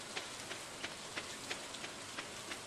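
Rain falls in the farming video game Stardew Valley, a soft, even, constant patter with faint drop ticks at a low level and no talk.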